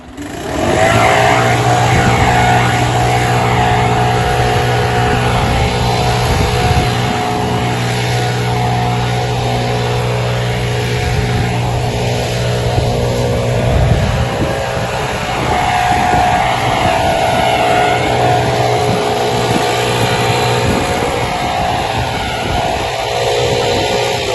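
Loud motor of a leaf blower running steadily nearby, a constant engine roar with slight surges in pitch, no talking.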